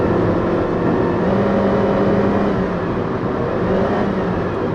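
Faint, thin siren-like whine from the air intake of a 2016 Honda HR-V, heard inside the cabin beneath a steady, dense bed of engine and road noise while driving.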